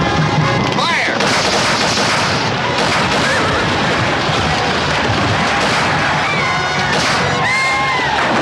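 Western film battle with a loud, dense barrage of rifle and gunfire bursts, booming shots overlapping with shouting voices throughout.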